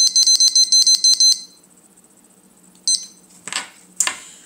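A kitchen timer set for baking mini muffins gives a rapid burst of about nine sharp, high beeps, then stops, followed by a few soft knocks and handling noises.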